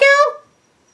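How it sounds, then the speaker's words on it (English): A single short, high-pitched meow rises and then fades away quickly, close by. "pardon the crying cat through this whole review"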